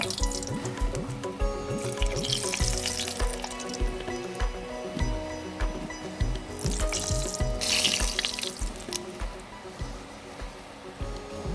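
Janthikalu (murukulu) snacks deep-frying in hot oil, a continuous bubbling hiss with irregular crackles and pops that swells in bursts, loud and close throughout with no talk.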